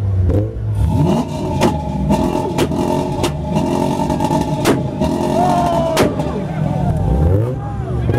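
A loud Chevrolet Camaro race car engine revs hard and roars steadily, with sharp bangs cutting through, as it launches up close at a street racing event.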